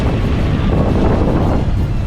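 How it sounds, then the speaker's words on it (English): Sea waves slosh and slap against a small boat off Honduras, a loud, continuous churn of water under gusting wind that covers the whole moment. "Ooh, waves coming."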